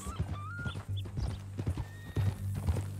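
Horse hooves clip-clopping in Red Dead Redemption 2, a quick irregular run of close, fairly soft hoof falls with a brief whinny, no talk over them.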